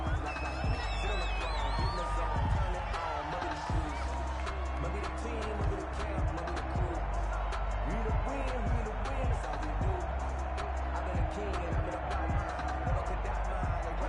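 A stadium crowd at a 49ers football game in a video game, a steady broad roar with scattered shouts and whoops, close and continuous under speaking voices.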